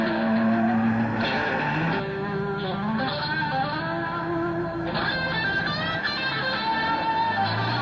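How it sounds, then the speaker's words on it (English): Land Rover Discovery engines revving and straining on a rough Siberian route during the 1990 Camel Trophy, mixed with whining winch motors, loud and close with shifting pitch throughout. "Soon the winch motors are heard as much as the Discovery engines"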